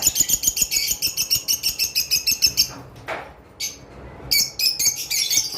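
A caged pet bird, one of a pair offered for sale, chirps in a fast run of bright, repeated tweets, pauses briefly, then resumes with more chirping, close and clear.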